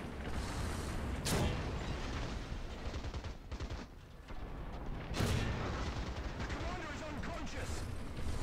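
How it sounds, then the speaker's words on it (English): Tank cannon fire and shell impacts in the War Thunder video game, with heavy booming blasts around 1.3 and 5.2 seconds amid continuous engine rumble and battle noise. "we keep taking a lot of turret fire"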